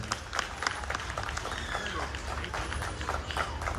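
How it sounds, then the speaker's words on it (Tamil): Clapping from a crowd at a grade 8 graduation honors a graduating student, a brisk, continuous patter of hands mixed with voices talking over it throughout the short stretch. "அந்த பிள்ளைக்கு ஒரு கைத்தட்டல் கொடுத்தாங்க ப்ளீஸ்"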